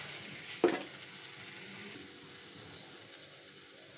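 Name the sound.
ground chilli, turmeric and salt being fried in pan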